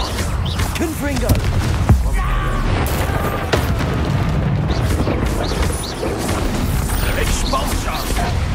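Confringo spell blasts in Hogwarts Legacy combat, booming impacts and crashing debris over a dense, busy mix of battle effects, with voices shouting spells and taunts on top.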